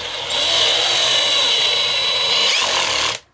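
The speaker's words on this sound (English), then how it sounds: "You put your drill in and" A cordless power drill fitted with an Allen key bit drives a screw, whirring loudly and steadily for about three seconds, then the pitch shifts under torque and it stops abruptly.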